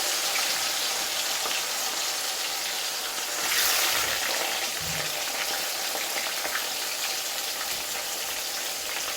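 Dried shark frying with curry leaves in a pan in a home kitchen: a steady bright crackling sizzle throughout, swelling briefly in the middle with a soft thud of stirring, close and continuous with no talk.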